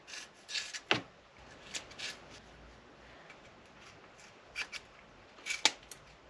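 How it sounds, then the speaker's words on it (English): Scissors trim excess fiberglass exhaust wrap during a vintage exhaust fitting, a few quiet sharp snips and rubbing rustles heard close in short clusters with pauses between. "what we'll do is just trim off all the excess fiberglass pieces"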